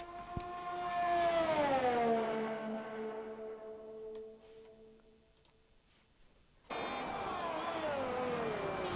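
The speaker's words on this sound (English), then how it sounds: "You have a McLaren on a lap at the minute as he goes through the first chicane." A McLaren race car in a racing video game at Monza. Its engine note climbs and then falls away through the first chicane, fades to near quiet, and then a loud, high-revving engine cuts back in.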